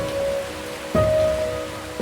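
Steady rain and the rushing roar of Seljalandsfoss waterfall in Iceland form a loud, continuous wash of noise, with a few abrupt bumps and a faint tonal hum over it.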